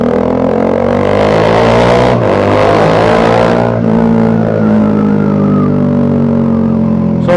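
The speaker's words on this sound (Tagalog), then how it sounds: "Sobrang ingay ng motor ko ngayon." A motorcycle engine with its silencer removed roars loud and raw, holding a harsh drone with a brief dip partway through, then winding down in pitch toward the end, close by with no talk.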